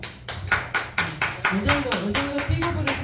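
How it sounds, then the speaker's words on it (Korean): A small audience at a singing contest claps in time to welcome a singer, steady rhythmic claps about four per second with someone talking over them. "우리와 같은 천명의 박수로 환영해 주세요."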